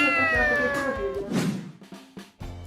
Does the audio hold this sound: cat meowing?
yes